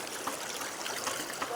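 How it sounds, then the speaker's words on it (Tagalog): A strong river current flows in a brief, faint, steady burble of moving water at the Kanyakan river picnic ground in Norzagaray, Bulacan. "Lakas ng agos oh."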